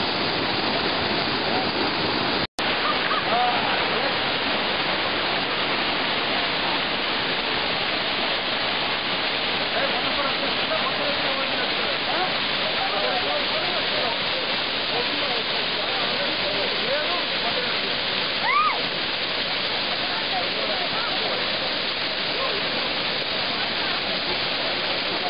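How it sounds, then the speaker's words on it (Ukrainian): The Kamianka waterfall sends out a steady, loud roar of rushing water, a broad continuous wash that holds unchanged throughout, with one brief sharp knock near the start. "Зараз ми знаходимося біля водоспаду Кам'янка"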